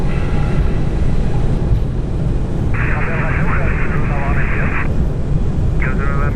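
Airbus A220-300 jet engines spooling up to takeoff thrust, heard from inside the cockpit as a loud, steady broadband roar filling the whole stretch, with crew and radio voices talking over it.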